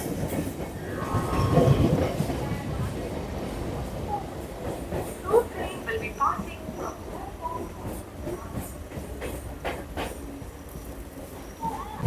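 A suburban train running between Howrah and Baruipara, heard from on board as a steady rumbling ride with faint rattling and clatter of the carriages throughout.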